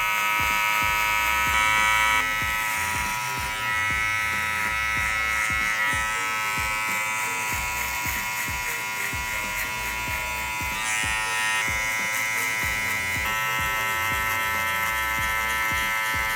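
A Gamma soft hair trimmer buzzes continuously and loudly at close range while it removes bulk during a barber drop fade, its whine shifting slightly in pitch as it moves over the head.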